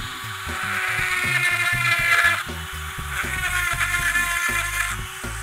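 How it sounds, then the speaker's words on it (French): A small high-pitched rotary mini drill with a diamond bit whines steadily, its tone dipping and rising as it bites into soapstone, close and fairly loud, with no talking. "une mini perceuse avec le même type de mèche qu'on a utilisé pour la gravure sur verre"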